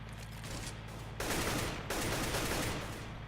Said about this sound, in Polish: O, strzelają.